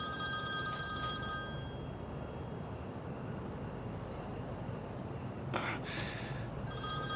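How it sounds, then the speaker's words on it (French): A telephone rings in an office scene from a Turkish drama series, repeated electronic ringing bursts over a steady background hum, fairly faint in the mix. "Oh, ton téléphone sonne."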